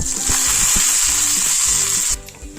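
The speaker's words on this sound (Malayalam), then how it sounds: "ഇനി കറിവേപ്പില ഇടാം" Curry leaves crackle and sizzle sharply in hot oil with dried red chillies, a bright hiss with a few light taps, cutting off abruptly near the end.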